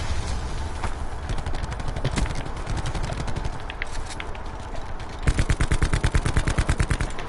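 Rapid automatic gunfire from a weapon in the video game Black Ops 4, sustained bursts of closely spaced shots that grow louder and punchier toward the end, with no talking over it.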